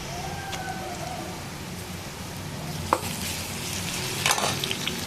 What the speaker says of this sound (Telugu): ఆనియన్ ఇట్లా వేగిన తర్వాత కొంచెం అల్లం వెల్లుల్లి పేస్ట్ వేయాలి